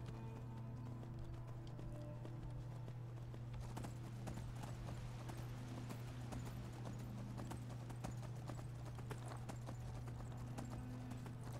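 Horse hooves clip-clop in the Skyrim video game, a steady rhythmic trot of quiet, close hoofbeats over a constant low background hum.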